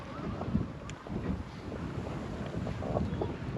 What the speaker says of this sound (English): So excuse that wind, we'll get out of it as quickly as we can.